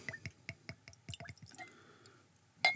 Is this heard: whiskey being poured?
yes